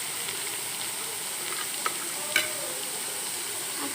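Crushed ginger and garlic sizzle with onion in hot oil, a steady close frying hiss with a couple of small clicks from stirring.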